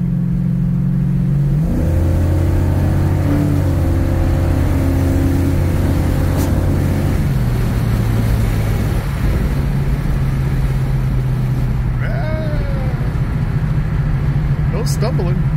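A Buick GS400 engine revving loud and close, the pitch rising and dropping as it stumbles and falters unevenly, with voices talking over the engine.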